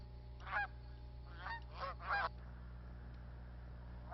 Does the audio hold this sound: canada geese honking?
yes